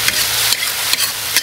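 Chopped chili paste stir-fried in a hot wok sizzles loudly and steadily, with several scraping stirs of the spatula breaking through the frying hiss.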